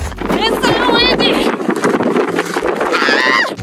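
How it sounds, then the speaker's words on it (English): Strong wind roars against the microphone on a mountain section of the Appalachian Trail, loud and gusty and close, with high whistling tones near the start and end. "It's so windy!"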